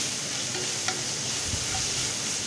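Clam meat and garlic being sautéed in a pan, with a steady, continuous sizzle and occasional soft stirring scrapes, close and alone with no voices.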